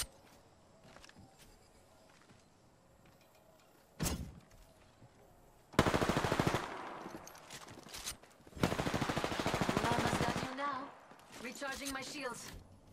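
Gunfire in the Apex Legends video game: a single sharp shot near 4 s, then two long loud bursts of automatic fire with a quieter stretch between them, followed by fading rattles and some voice chatter.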